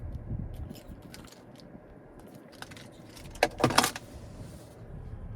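A Cadillac XT5 Sport key fob with remote start is handled, giving soft rustling and then a short burst of bright metallic key jangling near the end, close and fairly quiet.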